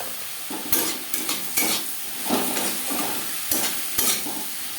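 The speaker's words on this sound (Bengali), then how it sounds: "মশলা বেশ ভালো করে কষিয়ে নেব।" Spice paste of ginger, green chilli, salt and turmeric with onion and tomato being stir-fried for a Bengali fish curry, a steady close sizzle with repeated scraping stirs of a spatula against the pan.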